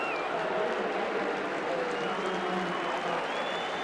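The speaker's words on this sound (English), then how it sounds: "He gets a good hand from the crowd" A football crowd at a 1984 match applauds a substituted player leaving the pitch, a steady broad wash of clapping and crowd noise throughout.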